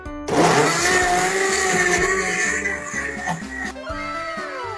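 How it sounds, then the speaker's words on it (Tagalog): A blender roars at high speed, grinding and rattling as it crushes ice for a shake, its motor pitch shifting before it cuts off near the end. "Bumili na rin kayo itong blender na to"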